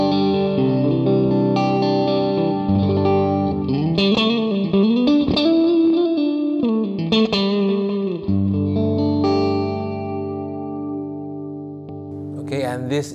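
Clean electric guitar tone through a Neural DSP Quad Cortex amp capture, with ringing chords and bending single notes under shimmery chorus and echo effects, loud and steady with no talking.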